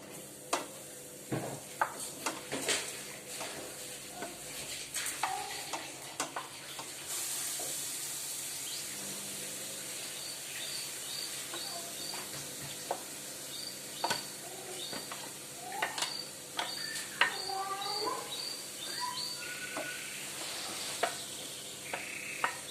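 Squash pieces fry in a hot pan with a steady sizzle and hiss, broken by scattered clinks and scraping stirs that come and go over the crackle. No talking.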